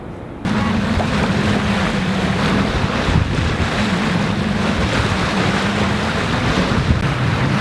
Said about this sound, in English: We're sailing up the eastern coast of Italy